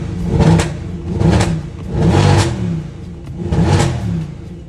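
Mercedes E63 AMG W212 sedan engine revving in three loud, rising surges, each swelling and then easing back, with no one talking.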